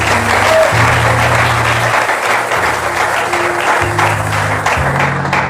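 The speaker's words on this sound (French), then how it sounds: "Est-ce qu'on peut acclamer les Seigneurs?" A church congregation applauds steadily and loudly, a dense wash of many hands clapping without pause, with low sustained tones, likely an organ or keyboard, underneath.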